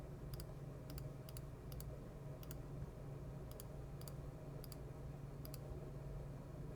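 A computer mouse gives sharp, faint clicks, about nine spaced unevenly, over a low steady room hum while someone edits an image in Photopea.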